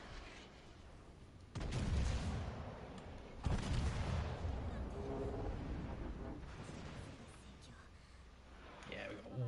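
Battleship main guns fire in World of Warships Legends, with two heavy booming salvos arriving near the start and middle over a constant rumbling game background while someone talks throughout.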